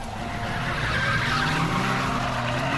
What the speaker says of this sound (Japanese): ってなんかスピード出しすぎの音聞こえるけど